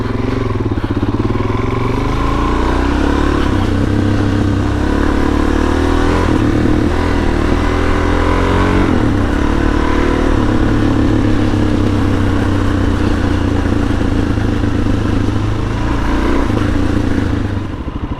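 A stock Suzuki DRZ-400S motorcycle engine runs close and loud for eighteen seconds, a steady thumping idle broken by several quick throttle blips that rise and fall in pitch.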